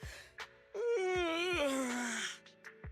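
A character in the video game Zenless Zone Zero gives a long, drawn-out vocal yawn, rising then sliding down in pitch, with soft breathy sounds and small clicks around it.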